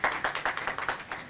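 Audience clapping at a church sermon, a short burst of sharp, rhythmic handclaps repeating roughly five times a second, moderately close with no talking.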